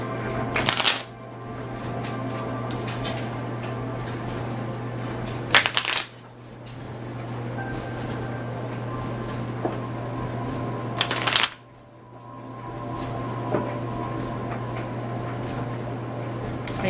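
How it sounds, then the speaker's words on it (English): A large tarot deck being shuffled by hand: steady soft riffling and shuffling in long runs, broken by a few brief pauses and sharp card snaps, close and fairly quiet with no talk. "This is such a large deck that I shuffle it a little different than I do my other decks."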